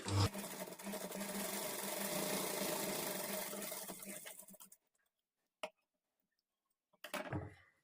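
A sewing machine stitches a princess cut blouse with invisible thread, running in one close, steady, whirring burst for about four seconds, then stopping into near silence broken by a single click and a short final run.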